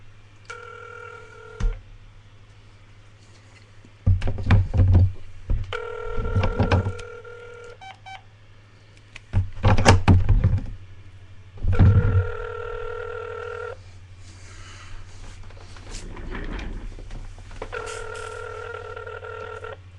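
A telephone number is dialed in short tone bursts, then a ringback repeats in evenly spaced pulses over a low steady hum, with no one answering.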